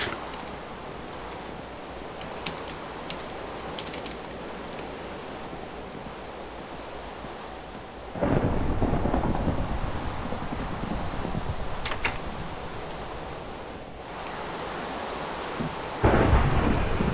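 Video game thunderstorm: heavy rain rushes without pause, and loud rumbling thunder swells in the middle, fades, then breaks again near the end.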